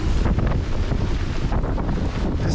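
Strong wind roars and buffets the microphone while waves wash and surge around a boat, a loud, constant rush with no voices.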